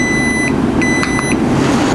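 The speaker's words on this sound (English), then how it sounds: "it starts beeping a lot and starts giving you this alarm code." Two short bursts of high electronic beeping from a VELIT heater's thermostat alarm in a Ford Transit sound over a loud steady hum of running machinery.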